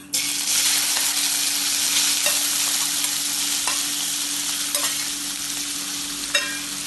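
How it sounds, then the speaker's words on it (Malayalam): Chopped tomatoes with spices being stir-fried in a pan for egg gravy, a strong steady sizzle with a few light scrapes of a spoon, close by and uninterrupted. "ഇതിനി ഇളക്കി വഴറ്റാം"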